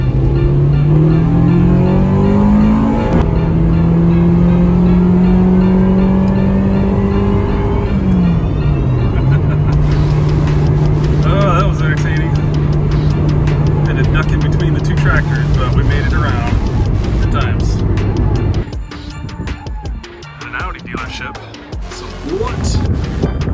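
An Acura Integra Type-R clone accelerates hard during a passing maneuver on the road, its engine note climbing through the revs, dropping at a gear change and climbing again, loud and close from inside the car with road and wind roar beneath.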